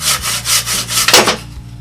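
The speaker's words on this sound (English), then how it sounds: "so I'm going to use a saw" Hand saw cutting through a sycamore wood blank on a woodturning project, a few loud rhythmic back-and-forth rasping strokes close by, with no talk.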